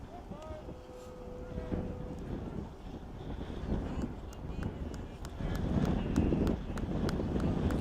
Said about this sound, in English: See the wind blowing Birch's jersey. You can hear it as well